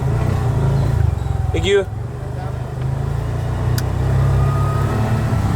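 A tuk-tuk engine runs steadily at close range with a low buzzing drone, heard on a drive near Polonnaruwa in Sri Lanka; a voice speaks briefly over it.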